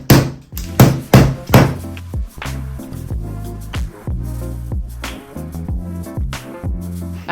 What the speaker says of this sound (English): hammer the butter down